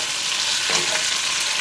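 Potatoes fry in a pan for braised pork, a loud continuous sizzle up close with a brief stirring scrape midway, no speech.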